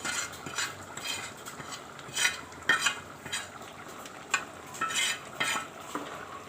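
Chilli and coriander powder, fried until browned, stirred into a beef curry in a pan, giving a steady soft sizzle with scraping spoon strokes and a few louder metallic clinks against the pot, close by and with no talking.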